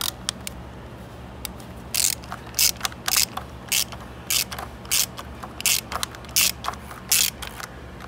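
Ratchet tightening an oil filter cap to torque on a Chevy Cruze 1.4L turbo, a series of short, sharp mechanical clicks in bursts with small pauses, close and fairly loud against a quiet background.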